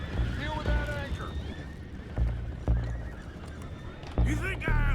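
Horses whinny and neigh repeatedly in Red Dead Redemption 2, sharp close calls over hoofbeat clip-clops and wind, with voices talking in the background.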